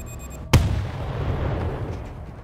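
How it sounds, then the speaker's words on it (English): A breaching charge detonates in the zombie shooter World War Z, a single sharp, loud blast after a brief electronic tone, followed by a long rumbling tail of debris and echo. "Breaching charge, counting down."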